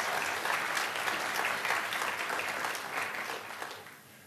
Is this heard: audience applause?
yes